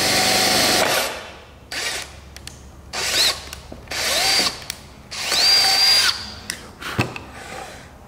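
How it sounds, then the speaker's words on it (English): Aluminium being drilled and tapped with a 6mm drill and tap during a boat build, a power drill whirring in repeated loud bursts separated by short pauses. "all we're going to do is just drill and tap using a 6mm drill and tap straight through"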